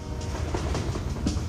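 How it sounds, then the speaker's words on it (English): A moving train gives a brief, steady rumble and rattle close by, with faint rhythmic clacking of wheels on the rails. "I jumped on a train today."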